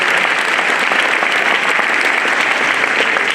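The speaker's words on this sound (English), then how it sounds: "Can we clap again for Vincent Okioga?" An auditorium crowd at a university first-year welcome claps continuously, a thick even wash of applause with no pauses and no talk over it.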